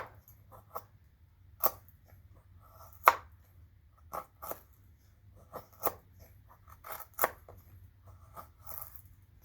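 Homemade knife chopping during a backyard cutting test, about a dozen sharp, irregular chops and knocks spaced apart over a quiet low hum, no voices.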